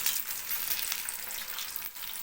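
Chicken strips fry in hot oil as they are lifted out to drain, giving a continuous close, hissing sizzle with a brief dip near the end.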